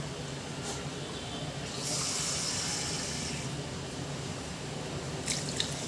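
Water is poured from a cup into a kadhai holding sugar for a sugar syrup, a soft steady trickle with a brighter, fuller gush in the middle, close by and with no talking.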